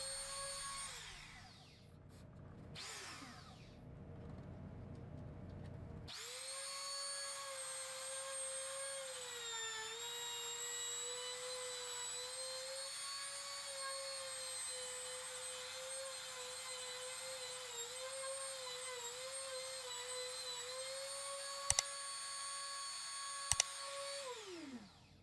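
Power tool routing a rectangular pocket into wood for a wooden docking station, heard as a steady high whine for about twenty seconds after a few start-up bursts, ending with two sharp clicks and the tool winding down.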